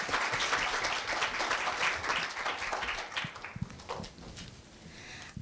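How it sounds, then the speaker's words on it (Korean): Loud, dense applause from a school-event audience fills the room for several seconds, then thins into scattered claps as it fades, greeting a middle-school student speaker at a speech festival. "큰 박수 부탁드리겠습니다."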